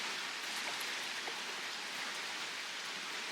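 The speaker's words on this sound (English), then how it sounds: "This rain is welcomed" Steady rain falls across the countryside on a hot, humid afternoon, a dense, even hiss of drops on surfaces continuing unbroken and moderately loud throughout.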